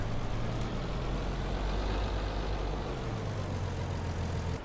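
A tractor engine in a farming survival roleplay video game gives a steady, deep idling rumble that runs unbroken and close throughout, with no talk over it.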